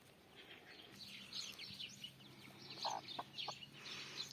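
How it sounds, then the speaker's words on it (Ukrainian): Hens cluck softly at a distance while small chicks peep and chirp in scattered bursts from their outdoor pen, with faint outdoor background noise on a morning after rain. "А там в своїй вольєрі насолоджуються свіжим повітрям курчата"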